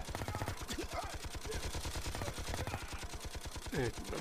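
Rapid automatic gunfire in a mission-based video game crackles in a fast, steady stream of shots throughout, with brief bursts of other game effects and a voice talking over it.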